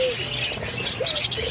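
Pet parakeets (keets) chirp while pecking at fresh moringa leaves, a busy mix of close, bright tweets and short sliding calls over soft rustling, with no one talking.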